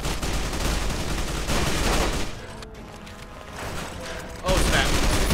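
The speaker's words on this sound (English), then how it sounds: "Oh god, they're shooting me." Rapid automatic gunfire and bursts of shooting in a Fallout New Vegas battle, loud and dense, dipping briefly before another heavy volley; a player's voice talks over it at times.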